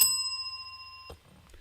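A single bright bell ding rings out and slowly fades, followed by a soft knock.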